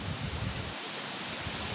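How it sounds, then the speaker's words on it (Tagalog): Strong wind rushes steadily through plants in Salcedo, Eastern Samar, a broad continuous whoosh with low gusty buffeting on the microphone, and no voice heard. "Ayan o, malakas ang hangin dito."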